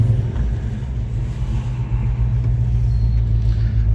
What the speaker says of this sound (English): Man, this car sounds so good.